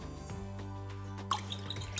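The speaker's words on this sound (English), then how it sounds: "Got the lemon that we zested earlier. Let's juice this." Juice dripping from a hand-squeezed lemon, a few faint, soft drips and small wet splashes in a quiet kitchen, with a low hum in the background.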